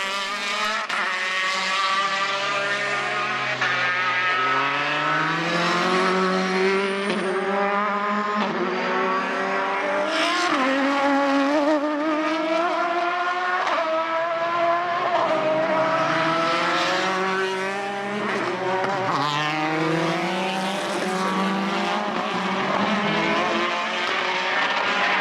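Race cars of the BOSS Ireland series lapping Mondello circuit at a motorsport weekend, loud high-revving engines rising and falling through gear changes, several cars passing one after another, continuous and close.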